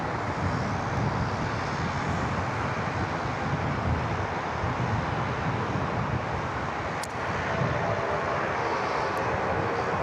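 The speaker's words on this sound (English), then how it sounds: "another nice, clean A330 departure." A departing Airbus A330 jet roars steadily at Sydney Airport, a loud, continuous broadband engine rumble that holds through the whole stretch with faint wind buffeting.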